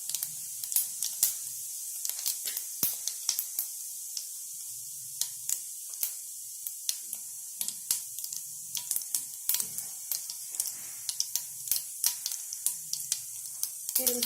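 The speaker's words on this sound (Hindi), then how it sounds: "तेल गरम होने के बाद हम उसमें डालेंगे बड़ी सौंफ, जीरा, मोहरी।" Fennel, cumin and mustard seeds sizzle and crackle steadily in hot oil, with a continuous hiss broken by frequent sharp pops and spits throughout, close and alone with no talk.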